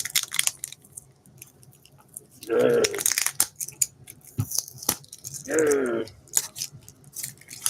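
Sealed packaging ripped open by hand in two loud bursts of tearing and crinkling a few seconds apart, with quieter rustling and handling between them.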